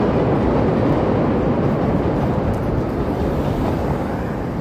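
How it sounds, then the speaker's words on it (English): An elevated Orange Line train on the Chicago Loop passes at street level, giving a steady, loud, dense rumble that holds for several seconds with no letup and no talk over it. "I hear the train coming."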